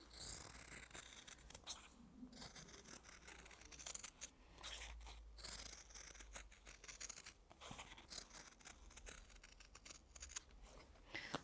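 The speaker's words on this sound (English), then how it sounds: "And then I'm going to cut that out exactly on the line." Scissors cutting fabric exactly along a marked line, close and quiet, a run of repeated snipping and slicing strokes with small rustles of cloth, no voices.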